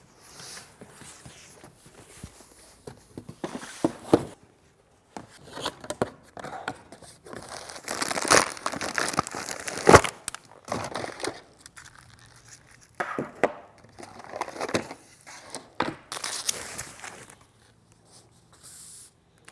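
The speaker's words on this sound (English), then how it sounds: "now we can unbox our radio" Packaging around an Alpine car radio, an i509-WRA-JL unit for a Jeep Wrangler JL, is torn and crinkled during unboxing, in close bursts of rustling and ripping with short quiet gaps between them.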